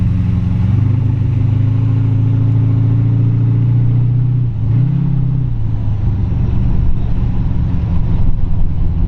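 A 1929 Ford Model A pick-up street rod with rack and pinion steering drives around a city block, its engine a steady close-up drone that dips briefly as the driver shifts, then carries on loud and even.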